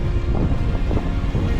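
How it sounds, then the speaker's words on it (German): Strong crosswind buffets the microphone while cycling along a narrow road on top of a dike by the sea during a 600 km non-stop brevet, a loud continuous low roar with gusty rushes and no voices. "sodass wir so richtig optimal den seitlichen Winden ausgesetzt sind"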